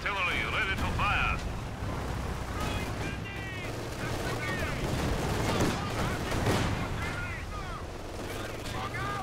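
Soviet Red Army artillery in Company of Heroes, World War II strategy game on a bocage map, rumbling and cracking in a dense barrage amid battle noise, with voices and radio chatter talking over it.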